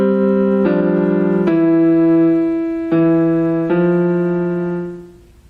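Piano plays the first two measures as four sustained chords, each struck cleanly and left ringing, one after another. The last chord fades out at the end, and nobody talks.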